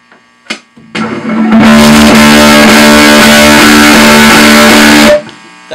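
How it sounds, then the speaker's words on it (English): A guitar effects unit with its distortion turned right up, giving a loud, dense, saturated roar of sustained notes that holds steady for about four seconds over a low mains hum before cutting off abruptly. "We can turn the distortion of the unit up."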